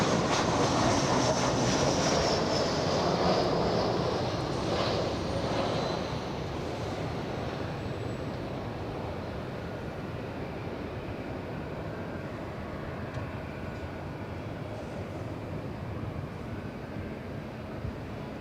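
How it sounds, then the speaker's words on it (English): Delta Airlines Boeing 737 taking off at LAX, a steady broadband jet roar that is loudest at first and eases slightly as the aircraft moves away, with some wind noise and no talk. "Next takeoff, we have a 737 Delta Airlines."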